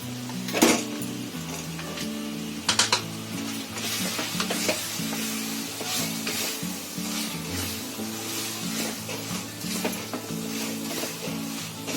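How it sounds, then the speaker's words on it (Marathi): Fried onion and capsicum drop into a pot of sizzling gravy, with a steady frying hiss and a few clinks of a spoon stirring against the pan throughout, close and moderately loud. "आता त्याच्यामध्ये आहे ना हे फ्राय केलेले कांदा आणि शिमला मिरची टाकते"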